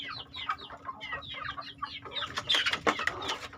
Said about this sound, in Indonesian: Nah, ini ayam jago ikut merebut ya makanannya